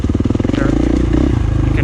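KTM 500 single-overhead-cam single-cylinder dirt bike engine revving lightly, a close, steady low throbbing idle with small rev rises and mechanical clatter, and a voice talking faintly over it.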